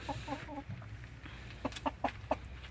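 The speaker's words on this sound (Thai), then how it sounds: "ไก่ห้าเดือนนะครับ" Five-month-old chickens on a farm cluck softly at a distance: a quick run of three clucks, a pause, then four more evenly spaced clucks over faint background noise.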